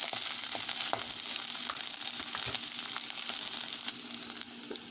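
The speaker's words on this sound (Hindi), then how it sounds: "भिंडी और सारे मसाले हमारे अच्छे से फ्राई हो गए हैं।" Okra and spices frying for sambar make a steady, close sizzle with faint scraping stirs now and then, and no one speaks.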